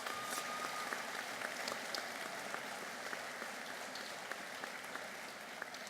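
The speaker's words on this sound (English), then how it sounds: "Let's give her a round of applause." Distant, faint applause from an audience at a graduation ceremony, a steady patter of clapping that carries on evenly for several seconds without voices.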